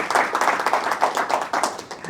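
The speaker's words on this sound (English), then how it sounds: "Let's give a round of applause to Jim and the 1 Million Cups team." A small audience at a 1 Million Cups entrepreneur gathering claps for the hosts. The hand claps are close and loud, with a brisk, slightly uneven rhythm of overlapping hands for about two seconds.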